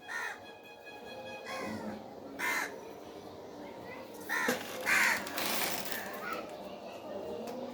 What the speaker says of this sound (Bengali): এই যে কাক, এই যে দড়িতে